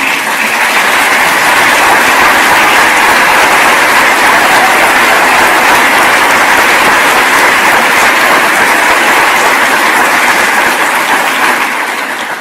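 Sustained, dense applause from a large conference audience at the 2022 Ukraine Recovery Conference in Switzerland, honouring Ukrainian Prime Minister Shmyhal and parliament chairman Stefanchuk, loud and even throughout with no break.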